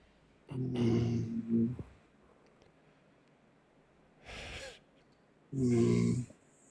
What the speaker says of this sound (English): Why is she snoring?